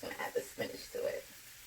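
Garlic and spinach sizzling in hot oil in a pan, a soft crackling hiss mixed with stirring, close but faint, with a voice talking over it.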